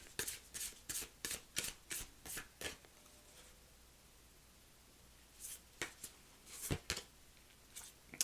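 Tarot cards are shuffled and handled up close, a run of crisp riffling bursts, then a quiet stretch before more card flicks and slaps as a final card is drawn.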